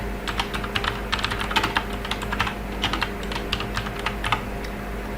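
Keys clatter on a computer keyboard while a name is typed, a quick uneven run of close, crisp clicks in short bursts over a low steady hum, with no talking.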